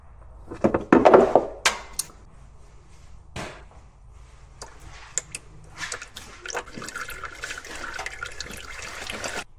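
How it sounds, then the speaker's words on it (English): Engine oil drains from the oil pan of a Ram TRX after its 13mm drain bolt is removed. A few loud splashy bursts give way to a steadier trickle with scattered clanks nearby. "It's been 20 minutes and you can see it's still dripping some oil."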